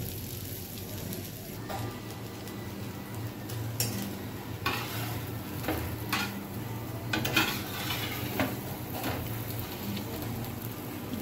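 Breadcrumb-coated snacks fry quietly in oil on a griddle with a soft, steady sizzle, broken by occasional light scrapes and clinks as they are turned.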